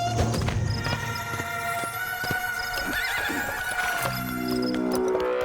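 A horse harnessed to a horse-drawn tonga neighs and whinnies loudly with clip-clop hoof sounds, close by over a steady bed of background music.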